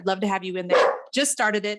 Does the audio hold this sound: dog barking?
yes